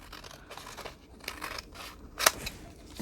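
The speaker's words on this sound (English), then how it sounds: "And then I'm going to cut it down." Scissors cut through a paper window envelope close up, giving a few soft snipping crunches and one sharp slicing snip near the end, with no talking.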